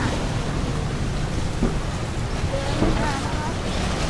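Boats moving along Khlong Saen Saep at a busy morning pier near Ramkhamhaeng University, a steady wash of water and engine rumble with wind buffeting the microphone and faint voices in the background.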